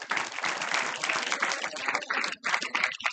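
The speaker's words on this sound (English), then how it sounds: "Please clap for him." Audience at a talk on gender stereotypes claps steadily in a dense, continuous wash of applause for about three seconds, with a brief dip near the end before the clapping resumes.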